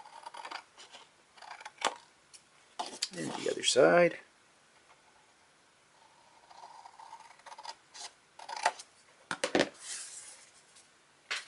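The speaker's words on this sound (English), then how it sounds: "So the first thing we're going to do is we're going to cut off our corners" Scissors snip the corners off a piece of card for a bow-and-butterfly card holder, giving a short burst of crisp cutting and rasping with a few lighter snips, under a person talking.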